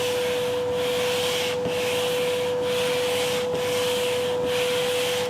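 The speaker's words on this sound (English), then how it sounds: "I've sanded that down to a 14-inch radius." A wooden guitar fretboard is sanded to a 14-inch radius with steady back-and-forth strokes, about one rasping pass per second, close and continuous with no voices.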